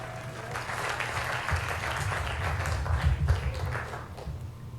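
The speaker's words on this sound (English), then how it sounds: "Applause filled the room as Prince Harry expressed his ongoing commitment to tackling knife crime and supporting local initiatives." Room full of people applauding during Prince Harry's visit about tackling knife crime, steady moderately quiet clapping with a low rumble under it, no talk over it.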